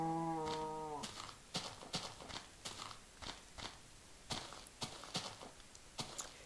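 Minecraft cows in a horror-themed game session, a short harmonic moo at the start followed by a run of sharp, evenly spaced hoof-like clops and thuds, fairly quiet and with no talking.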